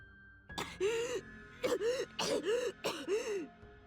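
An IWAIHIME game character coughs and chokes in four strained, voiced bursts, close and fairly loud, with short gaps between them.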